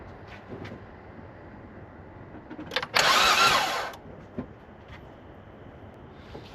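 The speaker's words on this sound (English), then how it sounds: "Let's crank it over and see if that does anything." Car engine cranked over by the starter during a valve check, a single loud whirring burst of about a second rising out of quiet workshop background with a few faint clicks around it.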